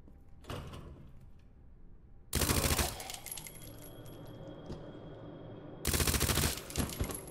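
Two loud bursts of rapid automatic gunfire from a video game, each lasting about a second, with mechanical clatter and quieter game sounds between them and no talking.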